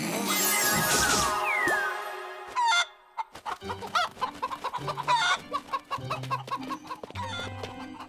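An ogre voice imitating a hen, with a run of choppy clucking bursts and tonal squawks after an opening stretch of high, shrill vocalizing, loud and close with no other talk.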